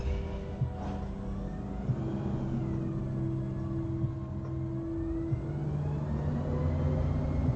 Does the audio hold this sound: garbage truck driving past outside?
yes